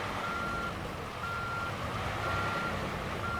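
A truck in Euro Truck Simulator 2 reverses into a warehouse, with regular reversing beeps sounding over a steady low engine rumble, close and continuous.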